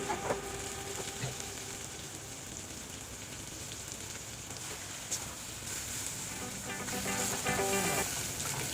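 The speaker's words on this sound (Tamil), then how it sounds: "நம்ம மீடியம் டு ஹை ஃப்ளேமில் வச்சுருக்கோம், அதே ஃப்ளேமில் வச்சுட்டு நல்லா மிக்ஸ் பண்ணி விட்டுட்டே இருங்க" Chicken roast fries in a pan on a medium-high flame while being stirred, giving a steady close sizzle with occasional scraping clatter from the stirring.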